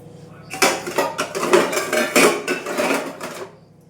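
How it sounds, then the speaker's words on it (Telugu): A steel lid being set onto a pan of brinjal tomato curry, a run of close metallic clanks and scraping rattles lasting a few seconds before falling quiet. "పోనీలే ఇది పెట్టేద్దాం, స్టీల్ మూత పెట్టేద్దాం"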